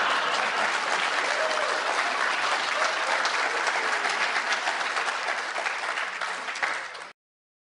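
A TV studio audience breaks into steady, full applause that holds evenly for about seven seconds before cutting off abruptly.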